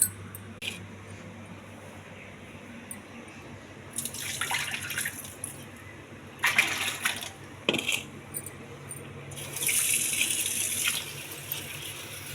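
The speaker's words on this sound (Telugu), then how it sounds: "బాగా 2-3 సార్లు ట్యాప్ వాటర్ వేసి కడగాలి" Grapes rinsed under running tap water in a sink, washed in repeated passes: intermittent close splashing bursts and trickles separated by quieter moments, with no talking.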